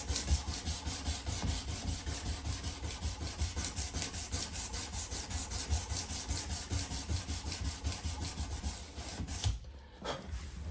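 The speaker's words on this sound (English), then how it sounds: "it takes the longest and most pressure to sand the previous grit scratches out" Steady, rhythmic rubbing of abrasive paper worked by hand against a steel knife blade at the ricasso, repeated close-up strokes that continue for about nine seconds before stopping abruptly, with a brief scuff near the end.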